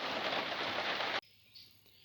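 Rain falls at night beside a lake as a steady, dense hiss of fairly close downpour that cuts off abruptly after about a second, leaving quiet background.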